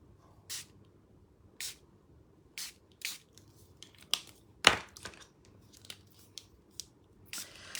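Short spray bursts of alcohol ink onto shimmery white cardstock, about a dozen quick hissing puffs at irregular intervals, close and crisp against near silence.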